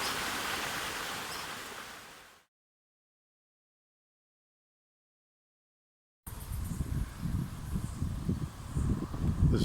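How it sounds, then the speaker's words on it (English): Storm floodwater rushes loudly as a broad steady roar, cuts out to silence for a few seconds, then returns as a deeper churning rush. "There'll be a lot more water coming down here in the next half hour or so, so be very careful"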